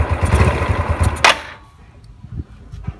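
A motorcycle engine with a carburetor vacuum problem revs loudly for about a second and a half, then drops to a quiet, uneven idle with faint knocks.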